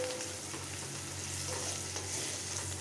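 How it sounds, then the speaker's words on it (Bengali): Turmeric powder fries with onion and garlic in a pan, a continuous loud sizzle with scraping stirs underneath, close and without speech. "এই সময় যদি একটু হলুদটাকে ভেজে নেওয়া যায়।"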